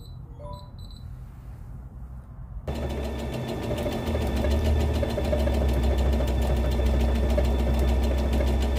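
A Brother Innovis NV1100 computerized sewing machine stitching letters, running at an automatically set speed: a steady, loud mechanical hum and rapid needle clatter start abruptly after a quiet opening with faint beeps and continue without pause.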